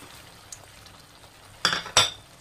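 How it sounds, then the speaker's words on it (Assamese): Fish stirs into a tomato gravy in a pan: two sharp scraping clinks of a utensil against the pot stand out over a low, faint background, preceded by a small tap. "অলপ ভালকৈ লাৰি দিব, যাতে গ্ৰেভিটো মাছৰ ভিতৰত সোমাই যায়।"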